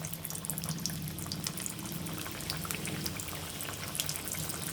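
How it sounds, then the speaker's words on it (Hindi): Pinwheel samosas (aloo bhakharwadi) frying in oil over a low flame, a dense, steady sizzle and crackle that holds evenly throughout with no voices. "तो अब मैं इसको फ्लिप करूँगी ताकि ये दोनों तरफ से फ्राई हो जाए"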